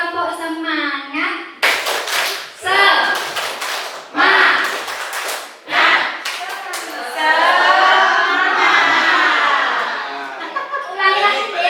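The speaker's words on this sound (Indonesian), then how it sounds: "coba tepuk semangat" A group of teachers and staff doing a rhythmic 'tepuk semangat' clap, bursts of sharp patterned handclaps alternating with chanted group voices and chuckles, loud and close.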